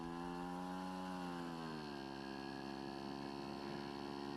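A Yamaha Chappy LB80 motorcycle engine runs steadily while being ridden, a buzzing small-engine drone whose pitch drops slightly as it shifts, close and continuous with no talk.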